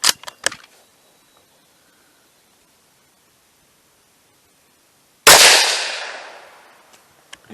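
A Ruger American .22 WMR rimfire rifle fires a single loud, sharp shot outdoors at a 100-yard range, followed by a fading echo tail. A few faint clicks come before it.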